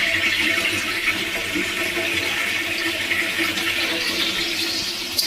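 A household toilet flushes with a steady rushing, gurgling surge of water that holds loud and close for several seconds, filling the small room without any voices over it.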